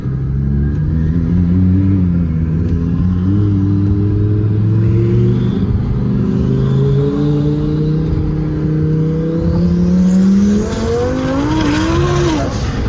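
A 1500-horsepower turbocharged Lamborghini Huracan accelerates hard in third gear, heard from inside the car: a loud, continuous engine roar climbs in pitch, with brief tire chirps and no talking.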